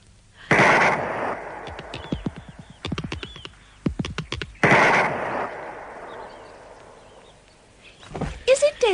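Gunshot sound effects in a classic BBC science fiction radio drama, several sharp loud shots and cracks spaced through the scene, with voices speaking between them.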